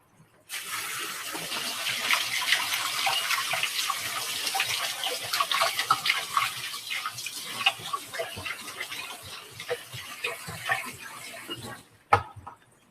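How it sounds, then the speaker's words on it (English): Tap water gushes steadily for about eleven seconds as 140 grams of cashews are rinsed, with a few splashes and knocks against a container, then stops and is followed by one sharp clunk. "here you are, my 140 grams of cashews that I'm going to rinse right now"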